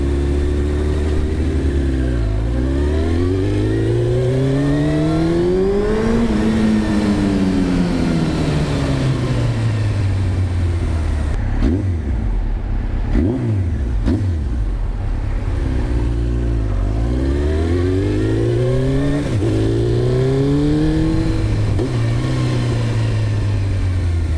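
A 1993 Honda CBR900RR Fireblade motorcycle engine revs loud and close in repeated rising and falling sweeps, climbing hard, then dropping back to idle, with nobody talking over it.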